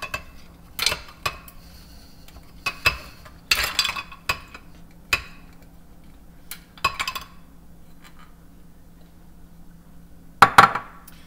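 Ice cubes drop into a blender while making a banana shake with dates, making a series of scattered hard clinks and clatters spread across the clip, with a louder cluster near the end.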